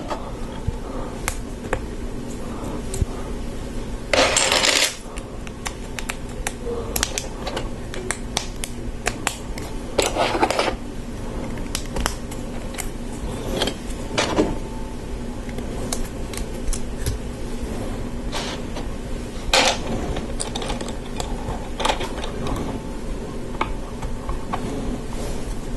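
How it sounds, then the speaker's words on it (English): Lego Technic bricks and pins snap together close up in sharp plastic clicks and ticks, scattered irregularly with a few louder snaps over a faint steady background hum. No one speaks. "so we're going to begin with a Technic brick. With some Technic pins."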